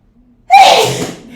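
A single loud, close human sneeze, a sudden burst with a sharp vocal onset that fades over about a second, alone with no talking.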